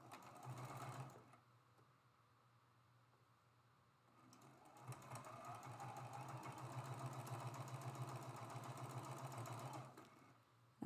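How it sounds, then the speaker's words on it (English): A sewing machine runs steadily stitching quilt block rows together for a picket fence quilt block, starting with a short burst, pausing briefly, then humming continuously for several seconds at close range before stopping. "I'm going to go ahead and start sewing these rows together"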